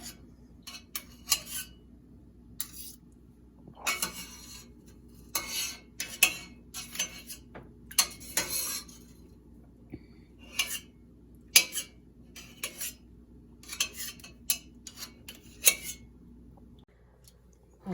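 Goat's milk mozzarella curd being sliced and cubed with a knife, with a series of light, irregular clicks and taps against a dish or pan over a quiet background, close and fairly soft.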